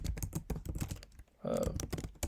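Rapid clicking of computer keyboard keys while coding, a quick irregular patter of keystrokes heard close up, mixed with someone talking over it.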